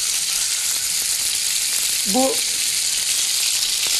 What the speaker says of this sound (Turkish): Eti mühürlüyorum ki suyu çıkmasın diye.